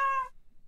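A kitten gives one short, clear meow up close, then falls quiet.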